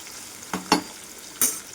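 Onions and green chillies, seeds left in, fry in hot oil for chinthamani chicken, a soft steady sizzle broken by a few short scraping stirs of a spoon in the pan.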